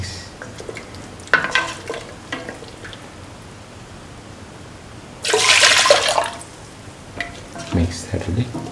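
Carrot coconut milk pasta is stirred thoroughly in a pan, making intermittent wet scraping and sloshing strokes over a soft sizzle. One longer, louder churning burst comes midway, and no one speaks.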